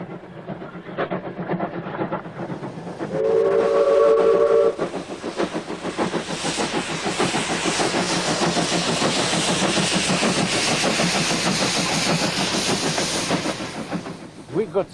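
Steam locomotive working with the steam cut off earlier, a rapid rhythmic chuffing that builds and holds, with a short whistle blast early on and a voice speaking at the start.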